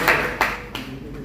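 Three sharp, separate hand claps ring out in quick succession at a community meeting as a guest is welcomed, then fade into quiet room noise.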